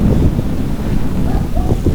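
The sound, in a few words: cold wind blowing outdoors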